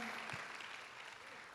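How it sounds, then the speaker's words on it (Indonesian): Faint, distant applause from a church congregation, a thin steady patter of clapping that lasts under two seconds without rising or falling. "Boleh kita kasih tepuk tangan buat Tuhan yang luar biasa."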